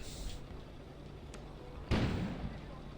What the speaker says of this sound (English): An explosion suddenly occurred outside.